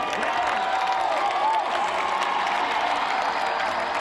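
Parade crowd cheering and applauding for Kansas City Royals pitcher Wade Davis during a World Series celebration, a steady dense roar of clapping and shouts with a whistle or two, continuous and moderately distant.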